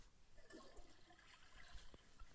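A toilet flushes in the horror video game Granny 3, a faint rushing swirl of water with light trickles, heard alone at low level.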